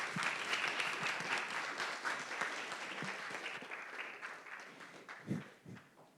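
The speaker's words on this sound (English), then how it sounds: "Okay, clap. Be nice and clap." Audience clapping at the close of a university lecture on condensed matter theory applications, a steady patter of many hands that thins out toward the end with a few louder individual claps.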